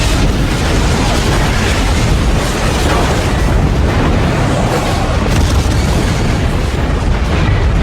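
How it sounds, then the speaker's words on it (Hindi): A powerful explosion at sea gives a continuous heavy, rumbling roar, loud and broadband throughout without a break. "एक जोरदार धमाका।"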